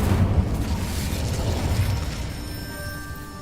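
The Incendio fire spell cast in the game Hogwarts Legacy, a loud booming burst of flame that rumbles and roars, then decays into a crackling, ringing tail over a few seconds.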